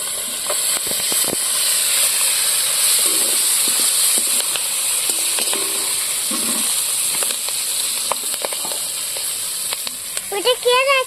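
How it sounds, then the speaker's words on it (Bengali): Chopped onion and green chilli hitting hot oil after a batch of home-pond fish was fried, a steady loud sizzle and hiss with occasional stirring clicks, and a brief voice near the end. "এবারে একটু পেঁয়াজ কুচোটা দিয়ে দেবো"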